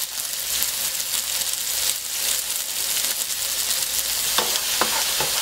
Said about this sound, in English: Peppers, onions, nicely cooked. Take those right out of the frying pan